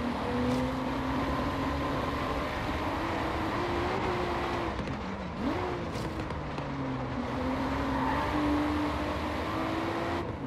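Racing cars roar in a video game race, a Nissan GTR and a Toyota Supra holding a steady high engine drone with pitch shifts and a brief dip, loud and continuous throughout.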